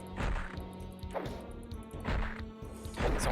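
Heavy blows land on enemies in the game Hexen, each strike a dull, solid thwack like hitting a wall, four impacts spaced roughly a second apart over low game ambience.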